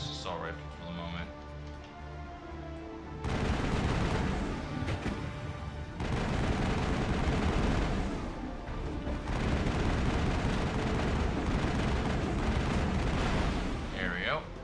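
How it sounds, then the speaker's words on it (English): Sustained assault rifle fire in Mass Effect, dense and loud from about three seconds on, a continuous roar of shots and explosions layered with game sound and voices. "I'm gonna have him use his assault rifle for the moment"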